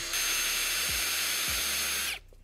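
A power sander with an 800-grit disc works a headlight lens, giving a steady, close whirring hiss for about two seconds before cutting off abruptly.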